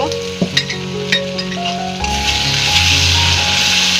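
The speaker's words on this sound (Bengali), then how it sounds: "নেড়ে চেড়ে কষিয়ে নিতে হবে।" Cumin and garlic paste stir-fried in a pan: a few sharp utensil clicks at first, then the sizzle swells into a loud, steady frying hiss.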